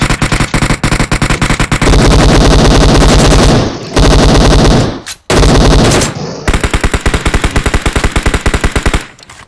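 Loud, sustained automatic gunfire in the PUBG Mobile battle royale game, long rapid bursts broken by a few short gaps, close and dominant with no talk over it.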